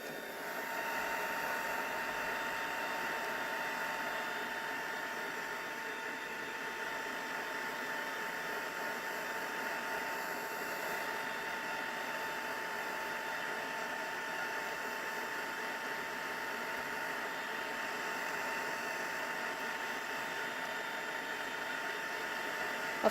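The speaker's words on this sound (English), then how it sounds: "my heat tool on low will just help it dry" A heat tool set on low dries pearlized enamel on a handmade card, giving a steady, close, even whooshing blow that runs without a break the whole time.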